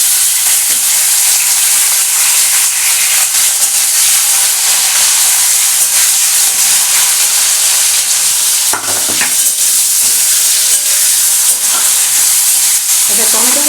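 Continuous loud sizzling and frying in a pan as paneer korma with capsicum cooks, with a steady hiss and occasional scraping stirs of a spoon, close up and uninterrupted, no talking.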